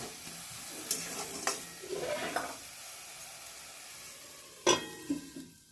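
Chai jhal and banana blossom in a pan on medium-low heat, with a faint sizzle and a few scattered stirring clicks and scrapes, including one sharper knock near the end, quiet and close, no talk.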